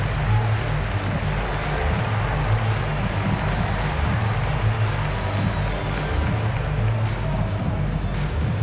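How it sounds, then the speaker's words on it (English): A crowd applauds at a Philadelphia 76ers NBA basketball game in an arena, with loud, dense, steady clapping and cheering that continues throughout. "Nice round of applause for your 76ers ENT."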